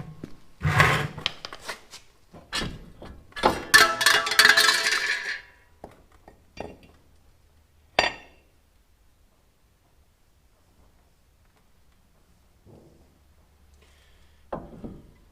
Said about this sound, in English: Now I just got to kind of tap this with a hammer and the hub should come out.